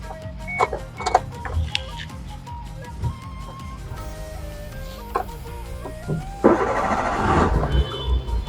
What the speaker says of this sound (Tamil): இன்ஜின் ஸ்டார்ட் பண்ணி பார்த்துடலாம்